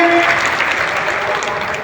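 Loud, continuous applause from a large crowd at a religious gathering fills a short stretch without pause, with a faint voice audible beneath it at the very start.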